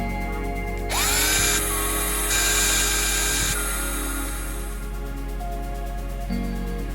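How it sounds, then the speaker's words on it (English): A small 1/16 bit drilling a pilot hole, the power drill spinning up with a rising high whine, holding a loud steady pitch for several seconds, then winding down into quiet background hum. "I'm using a 1/16 to just kind of drill out the middle"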